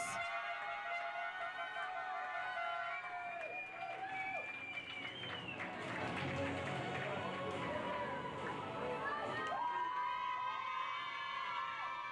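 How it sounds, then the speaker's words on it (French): Crowd at a youth equestrian prize-giving ceremony for a carousel event cheers and applauds continuously, with children shouting and whooping among the clapping, loud and sustained throughout. "merci pour vos applaudissements"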